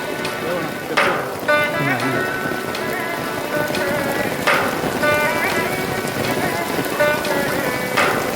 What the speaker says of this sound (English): As we explored, heavy rain began to fall, doubling the wildness of the scene and drenching us completely.